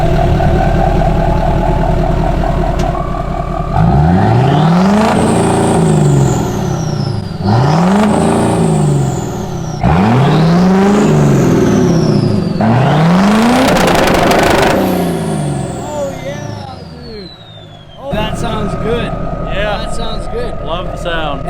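A 2020 Duramax diesel truck with a big turbo revs hard nearby in four rising and falling surges with a whistling turbo spool, then drops to a lower idle near the end.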